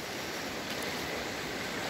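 Floodwater of the swollen Lempa river rushes past in a steady, close broadband roar with no pauses, carrying debris through flooded pastures and paths.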